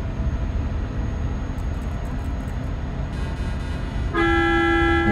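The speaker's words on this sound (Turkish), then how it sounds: "Havalı korna." A DAF truck's air horn in Euro Truck Simulator 2 blares as one loud, sustained blast near the end, after several seconds of steady engine and road drone.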